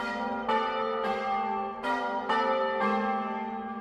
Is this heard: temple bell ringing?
yes